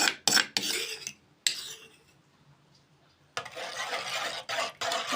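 A spoon stirs a ground spice mixture into yogurt for dahi bhalla in a bowl, scraping and clinking in close bursts with a quiet pause in the middle.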